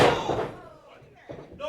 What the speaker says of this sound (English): Oh, and a shot to the midsection.